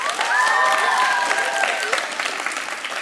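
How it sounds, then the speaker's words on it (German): A TV studio audience at a children's show applauds loudly and steadily, with a few cheers and voices mixed into the clapping. "Fetten Applaus für dich, 3 Punkte für Lina."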